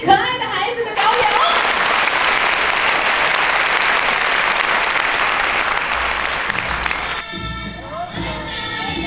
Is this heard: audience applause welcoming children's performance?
yes